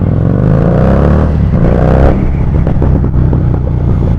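A Harley-Davidson motorcycle engine rumbles loud and close while riding, a deep, steady drone with throttle swells and wind buffeting.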